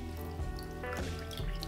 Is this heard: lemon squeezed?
yes